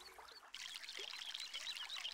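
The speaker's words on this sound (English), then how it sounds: "Let's water that one." Water pours and trickles onto a tree in the MySims video game, a soft, faint splashing stream that starts abruptly and continues evenly.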